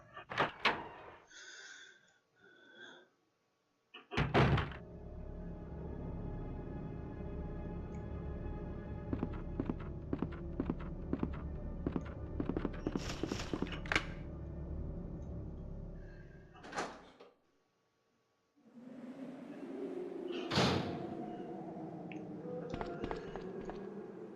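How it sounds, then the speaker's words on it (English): A door opens in Resident Evil 2 with a long mechanical sequence: thuds, a rattling run of clicks and clanks, a heavy slam, then a low rumbling ambience and a final thump, all loud and alone. "Okay, we go through this door."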